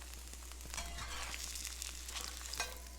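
A bologna slice fries in a pan on a hot stove turned down, with a close, continuous sizzle and crackle, scattered pops, and a steady low hum underneath.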